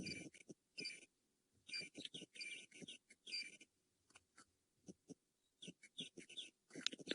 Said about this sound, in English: Really nice bird sounds coming through and a few frogs.